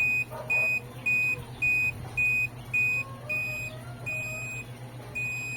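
A steady series of short, high-pitched electronic beeps from an active buzzer on an Arduino, repeating at a regular rhythm, about ten pulses, over a low background hum.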